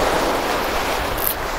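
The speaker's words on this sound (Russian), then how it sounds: "Прямо на берегу моря. Волны, ветерочек." Sea waves and breeze wash over an empty beach, a broad steady hiss of surf and wind, close and continuous through a brief stretch with no voices.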